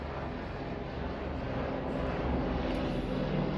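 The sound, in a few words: helicopter flying overhead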